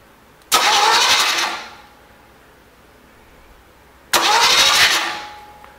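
An old Chevy 454 V8 engine is cranked over by the starter twice, each a brief whirring burst of about a second, separated by a pause of near silence.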